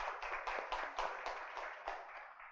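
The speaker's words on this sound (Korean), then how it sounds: "우리 앞에 박수 한번 해주시기 바랍니다." A Korean church congregation clapping during a Sunday service: a run of distinct, fairly regular claps in a quick rhythm, moderately loud and roomy, with no talk over them.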